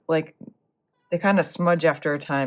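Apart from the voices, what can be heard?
cat meowing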